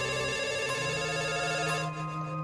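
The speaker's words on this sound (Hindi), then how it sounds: "घर का टेलीफोन बजा।" A home telephone rings with a steady electronic tone, loud and close, sustained for a couple of seconds before easing slightly at the end, with no voices.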